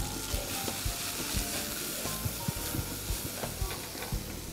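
Diced leek frying in a pan with salt and pepper alongside pork chops, a steady close sizzle with light stirring clicks and scrapes throughout, no talking.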